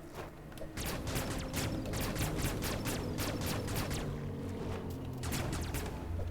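Rapid bursts of blaster fire in Metroid Dread, a quick run of sharp repeated shots over rumbling game sound effects, loud and dense, with no speech.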